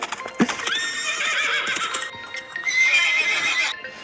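A horse whinnies loudly and repeatedly, with shrill, wavering calls and a short thump near the start, close by with no talking.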